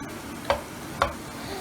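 Ingredients for Karnataka uppittu roasting in a pan, with a steady low sizzle underneath and two sharp ticks of a spoon against the pan about half a second apart.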